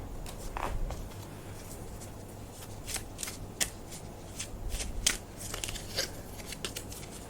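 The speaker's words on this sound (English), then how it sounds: "I'm just going to grab my playing card deck and clarify that" A deck of playing cards being shuffled up close during a tarot-style card reading, a string of crisp riffling bursts and soft slaps coming in irregular quick runs, fairly quiet, with no talking.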